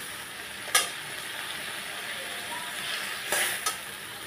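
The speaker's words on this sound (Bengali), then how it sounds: "একটু নুন আর একটু হলুদ সামান্য, 8 চামচেরও কম দিয়ে আমি এবার এটাকে ভালো করে নাড়াচাড়া করব।" Tomato chutney with salt and turmeric stirred in a pan, a soft steady sizzle broken by a few sharp scrapes of the spoon against the pan, close and with no talk.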